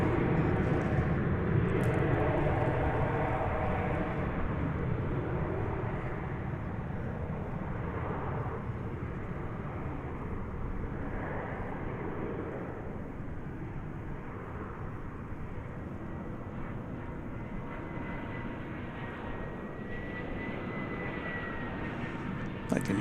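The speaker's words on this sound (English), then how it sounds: "I can hear the Delta A319 coming in." A Delta Airbus A319 jet airliner arriving from Minneapolis at a major airport, heard as a steady, broad jet roar that starts fairly strong and slowly eases, distant and continuous with no voices.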